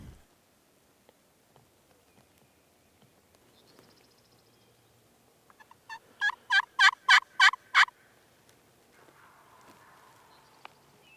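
Wild turkeys gobble in the woods during a hunt, a run of about six loud rattling gobbles in quick succession, preceded and followed by quiet outdoor ambience and faint distant calls.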